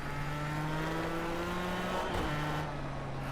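A race car engine in a racing video game hums at a steady pitch, then drops abruptly on a downshift and settles into a lower, rougher note, loud and continuous without talk.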